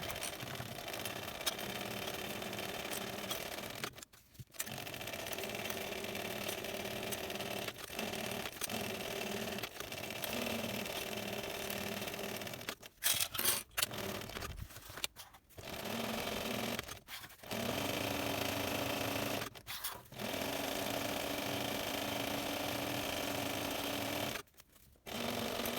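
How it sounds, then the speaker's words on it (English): A sewing machine top stitching a backpack strap, running in long steady stretches of fast stitching broken by brief pauses, close and moderately loud with no talk. "Now I'm going to take this over to the sewing machine and I'm going to top stitch with an 1/8 of an inch seam allowance."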